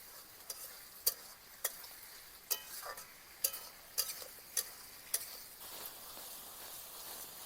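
Onion and tomato frying in a pan make a quiet background sizzle broken by sharp, regular spatula scrapes and clicks about every half second, with no voices.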